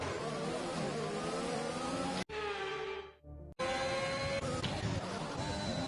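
Racing car engines whine at high revs in the F1 2021 video game at the Austrian circuit, a loud sustained roar with pitch shifts and abrupt cuts as the sound changes between cars.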